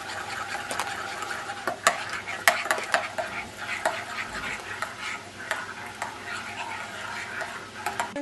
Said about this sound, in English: beat that all together